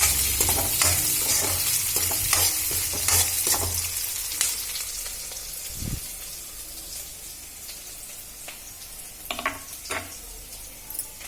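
Two spoons of oil heat in a pan for cabbage fry, sizzling up close while a utensil scrapes and stirs in bursts, the hiss fading slightly toward the end with a few sharp clatters, no voices.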